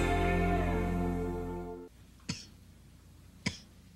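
Two short, isolated coughs from one person, close and moderately loud, spaced about a second apart after a sustained musical tone fades out.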